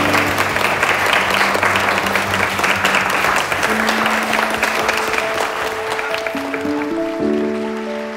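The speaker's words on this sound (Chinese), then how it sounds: "我们掌声欢迎这对新人入场" Applause from a wedding crowd welcoming the bride and groom, a dense sustained clapping that fills the room for the whole stretch while held musical tones play beneath and rise near the end.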